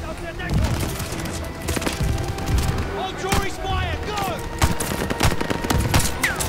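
Machine gun fire in the Call of Duty Vanguard campaign, sustained bursts of gunfire amid a dense battlefield with other shots and distant blasts, with voices talking over the fighting.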